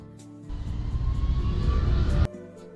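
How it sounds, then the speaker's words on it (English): Airplane sound effect: a low, rumbling engine roar that starts suddenly, holds at a loud, even level for under two seconds, then cuts off abruptly. "How dare him not use his own airplane to create a sound effect?"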